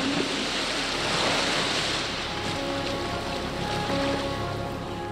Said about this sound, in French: Voici le bassin à vagues du RNLI dans le Dorset.